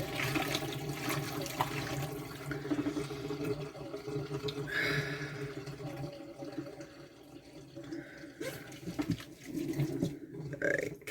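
Water runs into a sink with a faint, uneven splashing and gurgling that comes and goes, heard softly nearby without talk.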